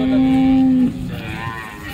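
A Jersey cow at the Modnimb cattle market lets out a single loud, steady moo that breaks off before the end, leaving low market murmur behind.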